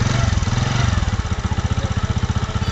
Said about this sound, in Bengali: এবার আমরা বাইকটিকে স্টার্ট দিলাম